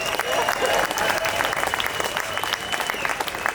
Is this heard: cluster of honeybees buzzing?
no